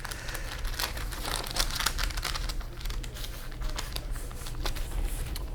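Close, busy crinkling and rustling of plastic packaging and tape as a Tamiya Blockhead Wild One model kit is opened, with irregular crackles and small tearing sounds throughout and no talking.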